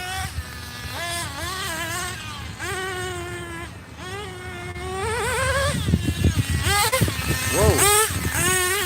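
A 27-year-old vintage nitro RC car engine screams at high pitch and close range, its buzzing whine rising and falling repeatedly as the throttle is worked, growing louder and choppier toward the end, with someone talking over it.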